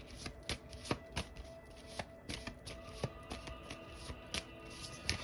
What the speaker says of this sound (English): So as I was shuffling your cards,